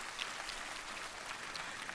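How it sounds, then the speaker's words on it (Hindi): Sustained applause from a school audience at an Acharyakulam gathering in Haridwar, a steady dense wash of many hands clapping together, fairly even in loudness throughout with no voices standing out. "तो जोरदार तालियां बजाओ इसके लिए।"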